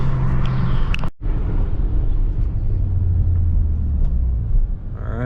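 A Honda Accord V6 rumbles loud and close, its deep steady engine drone holding throughout with a brief cut near the start.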